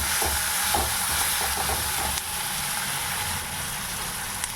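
Chopped cabbage with salt is stirred in a pan, giving a continuous close sizzle with soft scraping strokes of the spatula and a few light knocks, steady and fairly loud with no voice.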